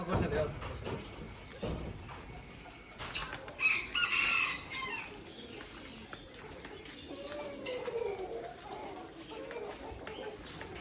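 Chickens and birds on a small Kerala household farm where cows and goats are kept: scattered clucks and short bird calls, fairly faint, mixed with people talking and some background noise.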